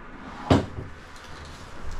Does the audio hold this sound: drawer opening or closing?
yes